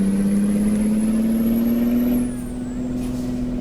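Truck engine in American Truck Simulator, hauling a double log trailer, labouring at steady high revs with a droning hum that rises slowly, then eases off as the load drops.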